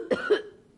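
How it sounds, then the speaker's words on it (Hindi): A single short cough, two quick rough bursts close to the listener, then quiet. "आपको तो खांसी है।"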